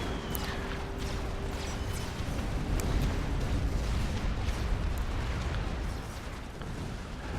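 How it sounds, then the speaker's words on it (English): Tech 2 artillery in Supreme Commander firing in a dense, continuous barrage of overlapping booms and crackling impacts, loud and unbroken throughout. "Morax has already started to counter with some T2 artillery"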